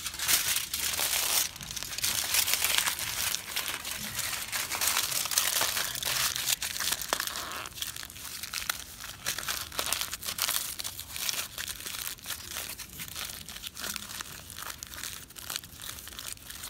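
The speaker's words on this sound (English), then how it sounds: "take a newspaper, crumple it into a long piece, roll it into a ring, tape it" Newspaper being crumpled and twisted by hand into a long piece for a sculpture armature, a steady close crinkling and crunching of paper that carries on throughout with no talk.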